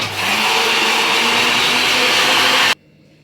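A blender grinds lemon with water for lemon soda, a loud close whirring roar that holds steady for under three seconds and then cuts off abruptly into quiet.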